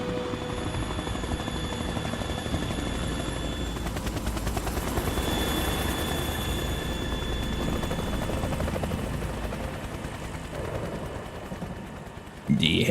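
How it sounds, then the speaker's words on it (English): Helicopter in the video game Metal Gear Solid 2, a steady rotor thrum and engine whine that fills the whole stretch at near-constant loudness, with a voice talking quietly beneath it. "The helicopter."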